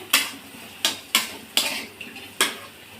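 A lid lifted off a pan of frying bitter gourd, a run of five or six sharp metallic clanks and scrapes of cookware spaced unevenly, each fading quickly, close by with no talking.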